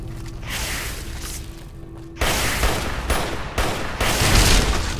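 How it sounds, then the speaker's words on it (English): Rapid gunfire from the Fallout New Vegas game rings out in dense, loud bursts, with volleys of sharp shots stacking into a continuous fusillade that grows heavier toward the end. "just shoot the damn thing."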